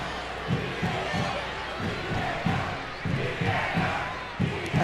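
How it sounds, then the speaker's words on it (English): A stadium crowd at a USA versus Mexico women's soccer friendly chants "VAR" in rhythmic, repeated bursts, a steady roar carrying the beat, with a commentator's voice faintly mixed in. "the crowd are chanting VAR"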